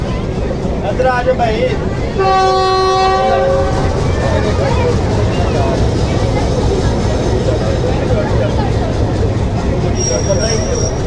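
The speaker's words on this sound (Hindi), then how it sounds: "डिपार्चर हॉर्न आपने सुन लिया" The Millat Express sounds its departure horn at Dinga railway station, one loud sustained blast over steady train rumble and station noise, with voices in the background.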